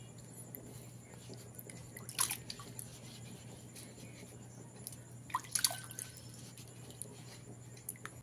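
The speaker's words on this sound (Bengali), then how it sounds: "তার জন্য আমি একটা পাত্রে জল নিয়ে নিয়েছি, তাতে আমগুলো দিয়ে দেব। আমগুলোকে ভালো করে ধুয়ে নিতে হবে।" Raw mangoes being washed in a pot of water: two brief, soft splashes and sloshes of water stand out over a steady low background hum, otherwise quiet.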